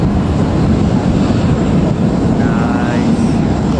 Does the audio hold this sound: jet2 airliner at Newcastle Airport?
yes